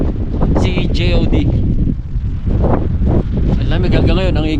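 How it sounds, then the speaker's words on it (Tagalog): Strong wind batters the microphone at a mountain campsite at Goat Cliff on Mt. Olis in Atok, Benguet, roaring loudly and gusting steadily while voices talk underneath. "Ang lakas ng hangin dito mga kaspat"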